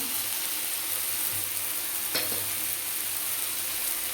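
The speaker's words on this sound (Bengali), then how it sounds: "মশলাটাকে কষিয়ে নেব।" Spice masala with salt and turmeric being sautéed in a pan for a vegetable paneer dish: a steady, dense frying hiss with one brief scrape near the middle, close and even, no talking.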